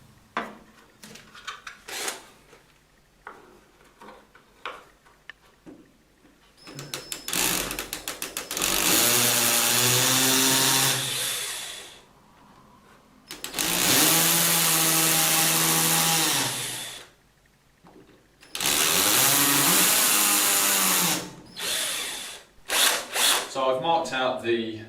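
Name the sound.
power drill drilling into a wall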